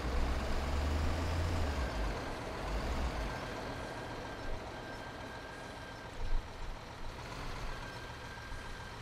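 Heavy truck in the Bau-Simulator 2015 construction game rumbling toward a gravel works, a steady low engine drone with faint high tones and a few brief knocks, no voices.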